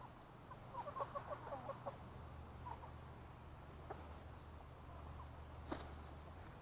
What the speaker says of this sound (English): This is hard to do with chickens around.